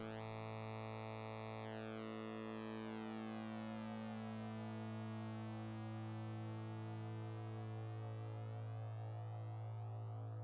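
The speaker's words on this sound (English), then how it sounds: "It starts with a sine wave, and then as you turn it up, it does some crazy things while the harmonics shift around" Make Noise STO oscillator starting as a pure sine tone, then sweeping into a bright, buzzy waveform whose harmonics shift and fan out continuously, a sustained synthesized drone heard alone and steady throughout.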